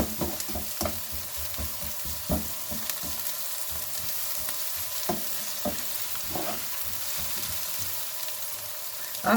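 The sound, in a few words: garlic frying in a pan for tinola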